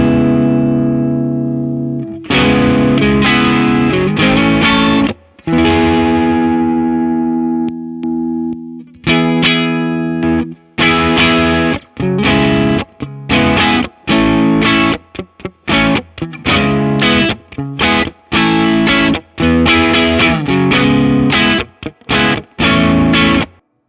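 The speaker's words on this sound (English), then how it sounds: "Maybe the Tube Screamer is a little bit too loud." Electric guitar through a Tube Screamer overdrive pedal in the AmpliTube 5 plugin, loud distorted chords and sustained notes, then a run of short choppy stabs separated by silences, no talking.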